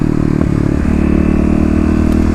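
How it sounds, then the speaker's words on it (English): EFI Kawasaki KLX351 dirt bike under throttle, a loud close continuous engine roar with a steady low drone and brief clattering blips, running without a break. "if you are in the right gear and you hit the throttle"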